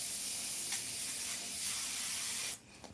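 An airbrush sprays paint in a steady soft hiss that runs for a few seconds and then cuts off abruptly, followed by near silence.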